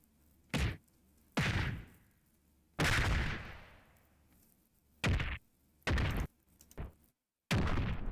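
Six sharp, punchy kick impacts from Tekken 7 land one after another with short gaps, each a loud synthetic thud with a brief booming tail.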